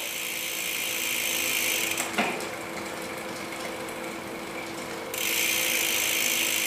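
Bicycle chain grinding and clattering against a rear derailleur sprocket during a struggling, noisy shift, a steady mechanical whir with a brief sharp clunk partway through.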